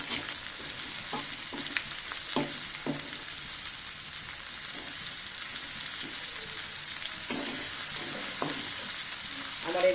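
Tempering spices frying with onion, garlic and ginger in oil, an even bright sizzle throughout with occasional soft stirring clinks and scrapes.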